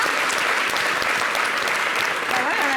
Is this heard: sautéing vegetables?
no